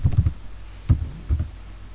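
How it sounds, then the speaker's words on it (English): A few soft keyboard keystrokes typing a search term on a computer, a quick cluster of clicks followed by two isolated taps, close and fairly quiet with no talking. "Now let's type in another term now"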